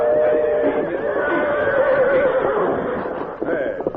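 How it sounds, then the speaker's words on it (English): Nervous horses whinny and neigh loudly and continuously near a buckboard wagon, with a rising, wavering call in the middle and scuffling noise toward the end. "Those horses are too nervous to be hitched to a buckboard."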